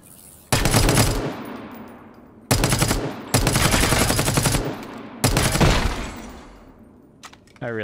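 Automatic weapon fire in the survival shooter Dysterra, loud rapid bursts cutting in and out in four long volleys with brief pauses between, close and harsh, no talking.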